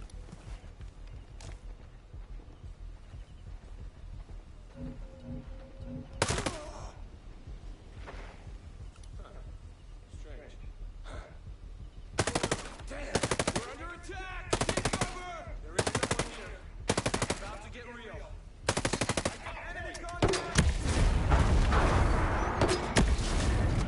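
Gunfire in the tactical shooter Ghost Recon Breakpoint: a few scattered shots early, then a run of loud, evenly spaced bursts from an automatic weapon, ending in a dense rattle with booming low rumble.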